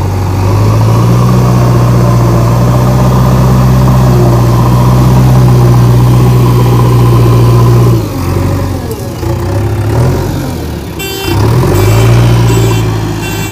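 A JCB 3DX Xtra Easyshift backhoe loader runs loud and close, pushing dirt at a dump site with a heavy, steady diesel drone. The engine dips and labors near the end before picking back up.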